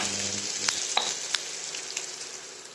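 Dill greens and gram flour fry and get stirred in a pan, a soft steady sizzle broken by several sharp clicks and scrapes of the spoon against the pan, fairly quiet and without voices.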